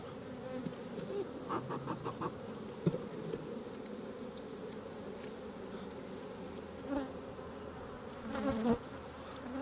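Honey bees from an aggressive hive buzz steadily and close, a dense continuous drone. Louder swells pass as individual bees fly near, with a few faint knocks of hive handling.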